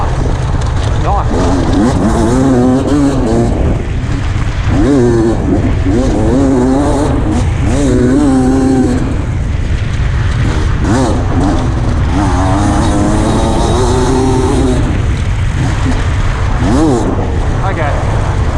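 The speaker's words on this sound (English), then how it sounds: "probably still my favourite 300cc engine" A 2022 Beta 300 RR 300cc motorcycle engine revs loudly and continuously from an on-board position, its pitch rising and falling with throttle changes, while a voice talks over it.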